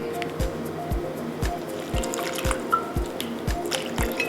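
Spicy vinegar drips into a garlic dipping sauce with steady drops about twice a second, each a soft plop over a constant low background hum.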